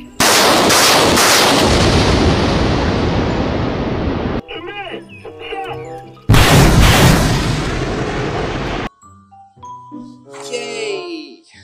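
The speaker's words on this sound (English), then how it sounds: "Wow, very powerful yellow and orange rocket launcher." A toy yellow and orange rocket launcher fires loud bursting electronic blasts in two long stretches, broken by short tinkling electronic tones and brief chirpy sound effects.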